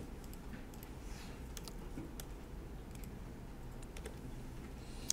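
Typing on a computer keyboard while lettering is entered in video-editing software: light, scattered key clicks at a steady low level over faint background hiss, with no voices.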